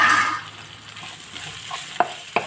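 Fish fries in a pan with a bright, continuous sizzle that is strongest at the start and then settles. A couple of sharp utensil taps come near the end, and there is no talk.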